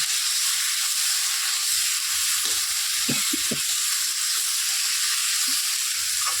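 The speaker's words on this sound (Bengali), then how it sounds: "সবজিটা একদম কিন্তু ভাজা ভাজা হয়ে গেছে" Vegetables frying with spice paste in a pan on a low flame with little oil, giving a steady broad sizzle and hiss throughout, with a few brief stirring knocks near the middle.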